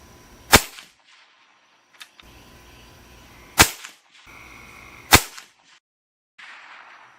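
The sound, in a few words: Avenger PCP air rifle shots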